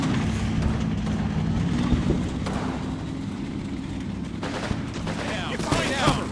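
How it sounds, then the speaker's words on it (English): Rifle fire in the WWII strategy game Combat Mission Final Blitzkrieg crackles as scattered, sharp shots over a dense rumbling battlefield background, with bursts of clustered reports toward the end. "we're taking single rifle fire from the other hedge line, or maybe the buildings, or both"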